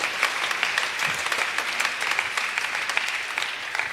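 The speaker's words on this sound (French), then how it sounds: "Applaudissez bien, encouragez-le." A church congregation claps steadily in dense, sustained applause at a Catholic mass, the crowd sound close and even for the whole stretch.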